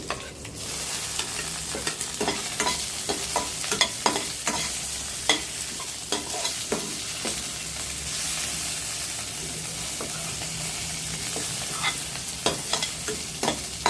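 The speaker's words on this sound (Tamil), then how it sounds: "தக்காளி நல்லா வதங்கி வரட்டும்" Tomatoes sautéing in a pan for a chayote and coconut milk curry crackle in a close, steady sizzle, with regular spatula scrapes and stirring clicks throughout and no voices.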